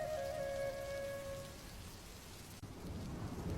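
Steady rain falls in a continuous hiss, with a faint low rumble of thunder beneath and a brief whistling tone at the start before the downpour carries on alone.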